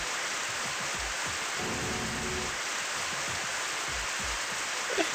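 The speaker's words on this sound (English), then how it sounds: "Now it's raining in the building again?" Indoor sprinklers spray inside a building in the video game Super Danganronpa Another 2, giving a steady, dense hiss of falling water like heavy rain, with a low rumble swelling briefly in the middle.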